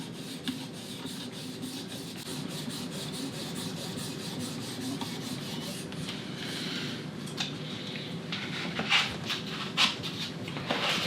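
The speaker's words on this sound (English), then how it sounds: "And the final touch with 3000 grit." A Glock knife blade is sharpened on a Work Sharp Precision Adjust Elite with a 3000 grit stone, making a steady series of soft rasping strokes up close. A few sharper scrapes come near the end, and no one speaks.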